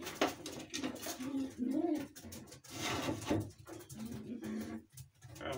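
Pigeons coo in low, rolling murmurs nearby, repeating under some rustling and handling noise.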